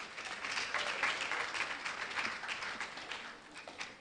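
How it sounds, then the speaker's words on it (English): A school quiz audience claps steadily for a team at a quarter-final stage, a dense, even patter of many hands lasting the whole stretch. "Let's clap for them."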